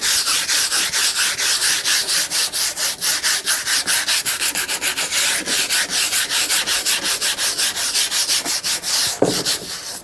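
Cockpit hatches being sanded by hand: steady, rhythmic back-and-forth rasping strokes, loud and close, repeating evenly for about ten seconds with a brief knock near the end.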